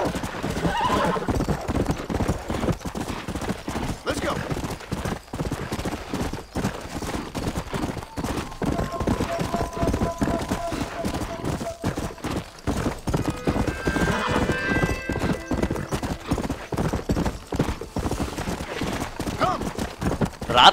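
Hooves clip-clop steadily as a horse gallops in Red Dead Redemption, with several whinnies and neighs rising over the rhythm; a voice talks over part of it.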